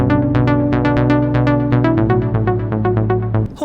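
A harmonic instrumental phrase in a mix with well-set reverb: sustained tonal notes and plucked attacks in a steady rhythm, with a short, controlled tail that keeps each note clear. Full and close, with no talking.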